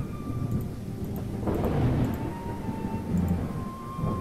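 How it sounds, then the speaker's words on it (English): Steady rain and a low rolling rumble of thunder fill a video game storm scene, constant and fairly loud with no voices. "there's a big thunderstorm outside"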